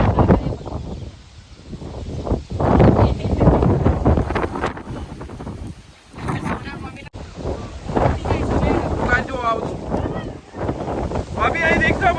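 Strong stormy wind kicks up dust outdoors and roars against the microphone in heavy, gusting rumbles, while people talk through it.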